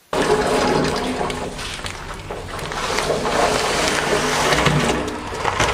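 Jeera masala soda flavoring is poured into a large batch of sugar water, a loud, steady rushing splash of liquid lasting several seconds with a broad, churning wash.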